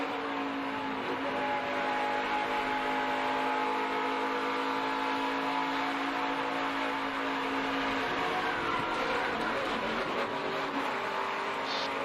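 Race truck at Darlington heard from inside the cab, a loud steady engine drone with a sustained whining tone, holding constant revs and then dipping slightly near the end.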